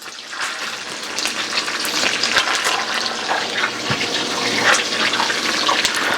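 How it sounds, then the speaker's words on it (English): Veal saltimbocca slices go into a hot pan prosciutto side down and sauté. A loud, continuous sizzling hiss runs throughout with small crackles, and no one speaks. "Then we're going to saute these. I'm going to put them prosciutto side down first."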